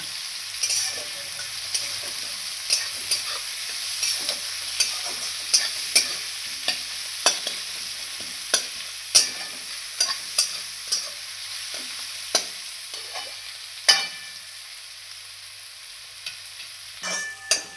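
Onion fried in a pan until reddish for a sprouted moth bean curry, a soft steady sizzle broken by regular scraping stirs roughly every half second to a second, close and clear.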